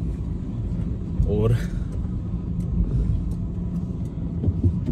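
A car engine idling and driving, a steady low rumble throughout with a brief rising whine, under someone speaking Hindi.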